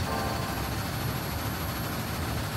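Chevrolet Chaparral race car in Gran Turismo Sport, its engine a steady loud droning roar with a high whine on top, holding constant throttle throughout.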